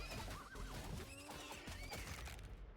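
Small duck-sized horses in the How Many Dudes video game whinny loudly, with a neigh and a second call over scuffling and clattering game noise.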